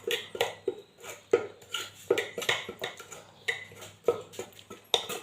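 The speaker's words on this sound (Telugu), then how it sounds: "ఇప్పుడే పిండి కలుపుతున్నాను ఫ్రెండ్స్" Dosa batter being mixed by hand in a bowl, heard as repeated wet slaps and clinks against the bowl in an irregular rhythm, close and fairly clear, with no talk.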